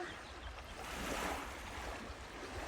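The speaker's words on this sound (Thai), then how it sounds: "ทะเลอีกที่หนึ่งนะคะ" Sea waves wash against the Danish coast in a steady surf roar, with a gentle swell near the middle and some wind. No one speaks over the continuous water noise.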